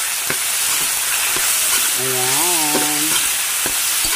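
Raw chicken pieces go into a hot pan with oil and sizzle loudly and continuously, with a few stirring knocks, while someone speaks briefly over the frying.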